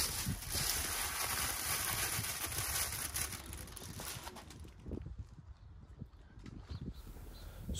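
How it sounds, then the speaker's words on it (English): Gusty outdoor wind buffeting the microphone beside a BMW, a loud rumbling roar that eases partway through and gives way to quieter, uneven rustling gusts. "it's a bit bloody windy, so trying to do that is quite hard with it blowing in the wind"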